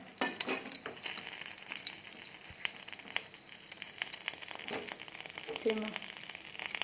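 Spices crackling and sizzling in hot oil in a home kitchen while an Odia dahi vendi dish is cooked, a steady bright frying hiss with small pops and bursts throughout.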